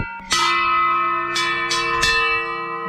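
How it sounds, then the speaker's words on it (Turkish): Cow bells, awarded to prize-winning cows and hung on display, ring out several times, clear and close, each strike leaving a long metallic ring that overlaps the next. "Orada birinci olan veya dereceye giren ineklere verilen çanlar."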